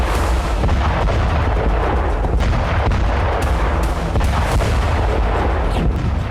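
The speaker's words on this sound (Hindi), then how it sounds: "रूस के चारों राज्यों में ड्रोन के साथ साथ क्लस्टर बम से विस्फोट किया गया।" War footage of cluster bomb and drone strikes carries a continuous roar of heavy blasts and rapid gunfire-like bursts, loud and dense for the whole stretch with no voices over it.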